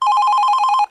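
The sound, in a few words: phone ringing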